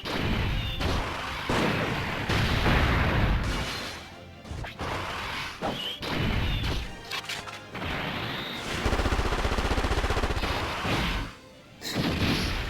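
Machine-gun fire in the mobile game Dokkan Battle, dense rattling bursts mixed with crashing impacts and booms, loud and continuous with short gaps, no talking over it.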